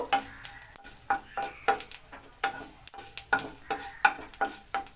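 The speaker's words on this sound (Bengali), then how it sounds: "চা চামচ মতো পাঁচ ফোড়ন আমি এতে ফোড়নে দিয়ে দিলাম এবার এটাকে ভালো করে ফোড়নটা আমার একটু ভালো করে ভাজা হলে" Panch phoron spice mix frying in a little oil in a pan, a steady soft sizzle punctuated by repeated scraping stirs of a spatula at an even, brisk rhythm, close and without talk.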